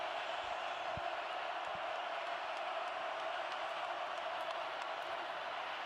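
A stadium crowd at a Tennessee football game on Rocky Top against Vanderbilt keeps up a steady, distant roar with faint scattered whoops, continuous throughout with no clear peaks.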